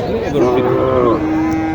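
A Sahiwal cow at a busy rural cattle market moos once in a long, loud, close low call that holds steady for most of its length, with faint crowd noise behind it.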